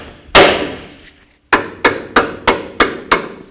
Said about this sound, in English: we're going to use a hammer and we're going to hit right on the knuckle right here to try to break this free